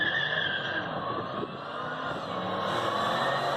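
A 3800 supercharged Pontiac Fiero drag races against a Cadillac CTS at a drag strip, a steady engine drone with tire noise that holds at moderate loudness, alone with no voices.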